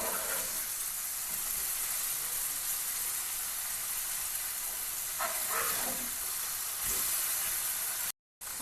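Prawns sizzle in a hot pan, a constant bright hiss of frying oil with a few soft stirring scrapes, close and steady until it cuts off briefly near the end.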